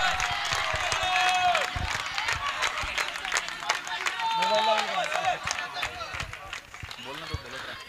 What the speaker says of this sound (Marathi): टाळ्यांचा गजर, शिट्ट्यांचा गजर पाहायला मिळतोय.